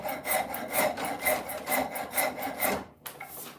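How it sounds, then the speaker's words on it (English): A wood file or rasp scrapes across wood in steady repeated strokes, a near, loud rasping rhythm that runs about eight strokes before a brief pause and a softer resumption. "we'll take our file or our rasp"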